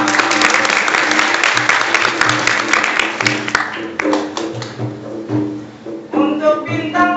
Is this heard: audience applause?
yes